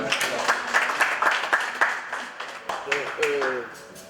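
Audience applause for an artist at a comedy show, uneven claps with distinct sharp hits rising and falling, mixed with voices and talk running underneath.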